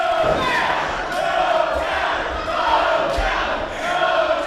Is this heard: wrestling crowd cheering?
yes